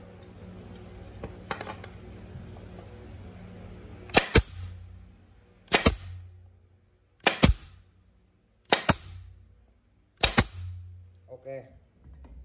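Five evenly spaced, loud, close cracks from an F5 nail gun, each a sharp double snap with a brief rattle, separated by quiet pauses, with faint handling noise before and a short clatter at the end.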